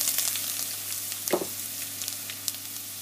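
Chana dal and spices fry in hot oil in a pan, making a soft, steady sizzle with a low hum beneath and one brief stirring scrape.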